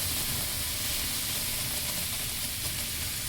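Thin batter spreads over a well-heated pan on a medium flame, giving a steady, close, even sizzle and hiss that runs without a break and with no talking.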